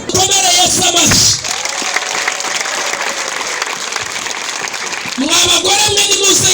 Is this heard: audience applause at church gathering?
yes